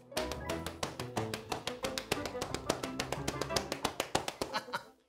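Children pat their hands on their legs to imitate falling rain at a church kids' gathering, giving a fast, even run of soft slaps that swells and continues for several seconds, with voices faintly mixed in.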